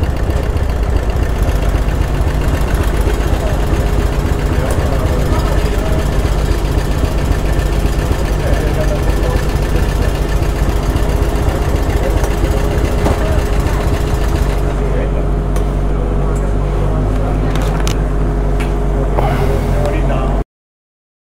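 A motorcycle idles nearby, a steady low mechanical rumble with a faint knock that holds throughout at high level, while someone talks over it before it cuts out at the end.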